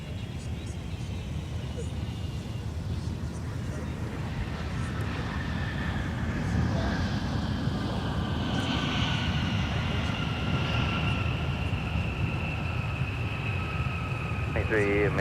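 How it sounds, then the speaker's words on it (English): Delta 914, a jet arriving from LAX, touches down on runway 12 right at Minneapolis–St. Paul airport, a sustained loud engine roar with rising and falling whining tones that swells as it passes close by. "about to touch down on 12 right is Delta 914 from LAX"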